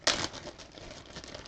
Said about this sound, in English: Did I leave plastic bags for me to put this in?